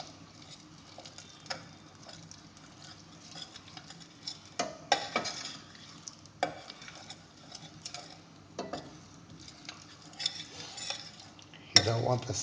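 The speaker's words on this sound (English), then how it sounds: "Ooh, some butter is starting to splatter." Butter sizzling and splattering in hot oil in a frying pan, a quiet steady fry with scattered sharp pops and clicks, louder spits near the end, no talking.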